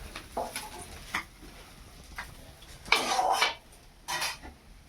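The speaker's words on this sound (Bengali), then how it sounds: "এই যে মাছগুলো বন্ধুরা এভাবে তুলে নিচ্ছি" Fried fish lifted from a frying pan, with a few light clinks and scrapes of a utensil against the pan and a louder scraping burst near the end, close and otherwise quiet.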